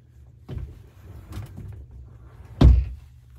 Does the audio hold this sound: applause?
no